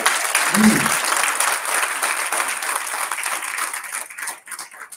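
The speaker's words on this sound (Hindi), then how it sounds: "एक बार जोरदार तालियां बजा दीजिए" Loud applause from the audience at a Hindi Diwas kavi sammelan poetry gathering, a thick burst of clapping that gradually thins and fades toward the end, with a brief low voice near the start.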